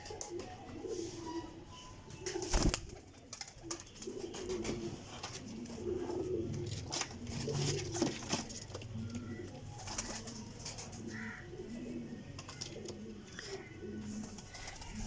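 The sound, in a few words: pigeons cooing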